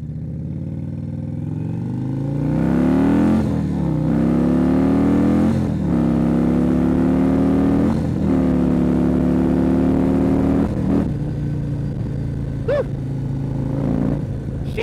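An Indian Chieftain motorcycle fitted with a 585 cam pulls away and revs on an open road, its engine note rising and falling in steady, loud sweeps with brief gear-change dips, close and continuous throughout.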